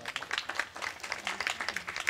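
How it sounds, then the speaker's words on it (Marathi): Villagers applaud visiting bhajan singing groups at a week-long devotional gathering, a quick patter of hands that stays fairly faint and steady throughout. "हे बाहेरगावून आलेली सर्व भजनी मंडळी यांच्यासाठी एकदा टाळ्या वाजवा"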